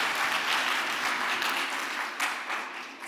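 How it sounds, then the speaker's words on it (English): An audience at a graduation ceremony at Atlantis The Palm in Dubai claps steadily and densely for a few seconds in a large hall. "Another round of applause, everybody."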